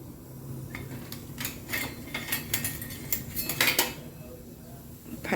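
Chili stir-fried in a pan for a pork-bone bamboo-shoot coconut curry, with metal utensil clinks and scraping against the pan over a low cooking hiss, steady and close.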